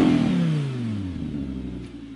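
Audi R8 V10 RWS with a mid-mounted, naturally aspirated 5.2-litre V10 revs loud and raw, its pitch sweeping down then settling into a steady engine drone, close by with no talk.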